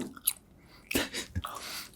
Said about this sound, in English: I'm sorry that I'm chewing gum.